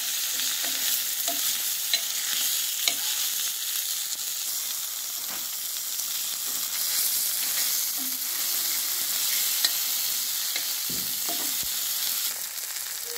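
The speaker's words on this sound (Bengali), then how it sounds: "এভাবে করে সবগুলো মাছ ভেজে নেব।" Bata fish frying in oil in a pan, with a loud continuous sizzle and occasional clinks and scrapes as the pieces are turned.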